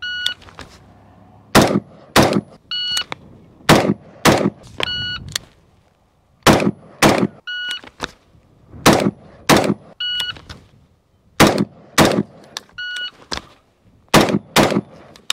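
Rifle gunfire on a competitive shooting course, fired from a Sig SPEAR LT or Geissele Super Duty, in loud, sharp shots grouped in quick strings of two or three with short pauses between, plus faint electronic beeps.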